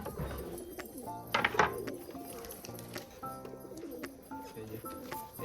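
Crested pigeons coo in a low, repeated rhythm at close range, with a louder flutter-like burst partway through and some background noise.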